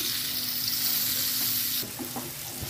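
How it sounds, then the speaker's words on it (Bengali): Chopped onions, about a cup, fry in oil with a steady close hiss, then a few scraping stirs of a utensil break through the sizzle near the end. "তো এখন আমি পেঁয়াজগুলোকে নেড়ে ছেড়ে দিচ্ছি, আর এগুলোকে আমি হালকা গোল্ডেন কালার করে ভেজে নিব"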